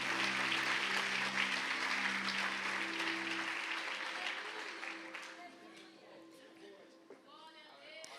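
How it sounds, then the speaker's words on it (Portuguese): A church congregation applauding during a service, a dense wash of clapping over sustained musical tones that fades after about five seconds into a quieter room. "Aplausos a Jesus"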